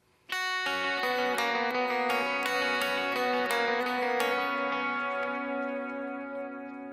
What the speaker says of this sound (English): We're gonna double the lead guitar on a lower octave.